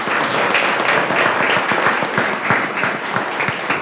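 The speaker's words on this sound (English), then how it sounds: "Again, if we could give them a great round of applause." Loud, dense round of applause for students at a board of education meeting, continuous clapping from a close crowd throughout.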